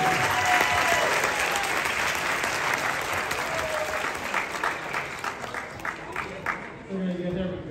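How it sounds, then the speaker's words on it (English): Applause from an audience at an awards ceremony at Essex County College in Newark, a loud, dense clapping that gradually thins out, with voices and cheers mixed in as it fades. "Let's give a big round of applause to our juniors."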